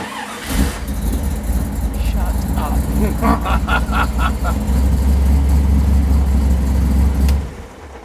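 An MGB fitted with a swapped-in V8 engine cranks and fires, then revs hard and steadily up close for several seconds before cutting off, with people's voices in the background.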